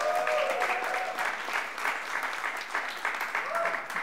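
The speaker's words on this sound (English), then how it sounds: "can we just give our worship team a round of applause?" A church congregation at a Sunday service applauds the worship team, steady clapping with voices mixed in and a tonal sound heard near the start and end.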